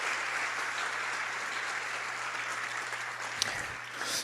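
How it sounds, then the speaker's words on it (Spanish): Church congregation clapping loudly together during a sermon, a steady wash of applause throughout, with a slight rise near the end. "Aplaude fuerte al Señor. Aplaude fuerte a Dios."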